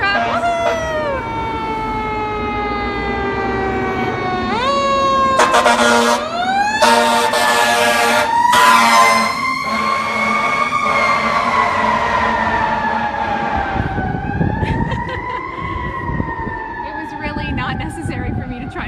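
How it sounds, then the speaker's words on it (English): Fire truck siren passing close by on a street near a fire department, wailing loudly up and down for about twenty seconds with a few sharp horn blasts, while people talk underneath. "here comes the fire truck"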